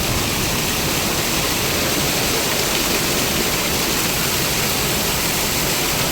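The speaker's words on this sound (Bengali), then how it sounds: "পানির গতিটা দেখো খালি কতটা স্পিড" A loud, continuous roar of fast rushing water fills the scene, dense and unbroken throughout with no voices.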